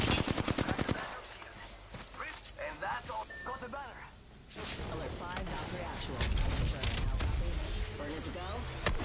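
Rapid automatic gunfire from the video game Apex Legends opens in a fast burst of close shots, followed by scattered firing and game effects while a player talks excitedly over the action.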